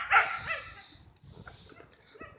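A K9 police dog in training barks once sharply up close, then gives softer yips and whimpers amid light background noise.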